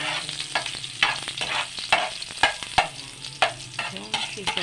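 Punaw sea shells sauté in a pan with garlic and onion, giving a steady sizzle broken by repeated scraping stirs and shell clatter at an uneven rhythm, close by with no talking.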